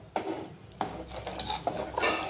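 Dal and rice being washed in a metal pot: about four sharp clinks and knocks, each followed by swishing water and rubbing grains, close and clear with no talking.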